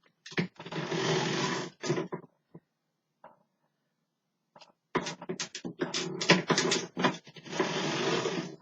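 A hand-cranked sock knitting machine runs in bursts of dense mechanical clatter, loud and close, with short pauses and a near-silent gap between the runs.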